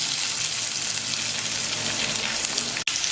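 Chopped onion frying in hot oil in a pan over a medium gas flame, after garlic, for Maharashtrian zunka: a steady, close, loud sizzle with no talking, briefly cut by a momentary dropout near the end.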